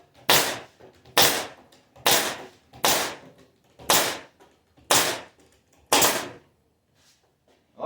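A nail gun fires into a plywood cabinet, seven sharp cracking shots spaced about a second apart, loud and close, each one ending in a brief decaying rattle.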